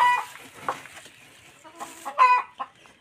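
Hens cluck in short, repeated bursts close by in a nest with nine greenish eggs, with occasional louder calls and no talking.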